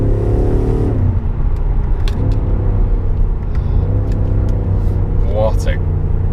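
A 2019 BMW M5 Competition engine revs loudly and close, rising and falling in pitch through several pulls over a deep rumble, with a voice heard over it.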